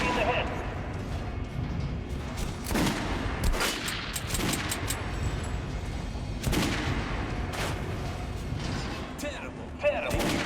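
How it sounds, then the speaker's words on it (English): Gunshots fired at a training dummy in Metro Last Light Redux, several sharp reports spread across the stretch amid steady background noise, with someone speaking throughout. "Shoot the dummy in the head."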